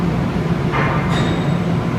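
Steady low rumble and hiss of a Metro-North train idling at a platform in Grand Central Terminal, loud and continuous, with a brief higher mechanical whine rising partway through.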